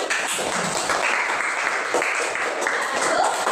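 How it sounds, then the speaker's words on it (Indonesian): Classroom applause for a student group after its project presentation, a lively burst of children clapping close by with uneven surges, voices mixed in beneath the clapping. "Beri tepuk tangan."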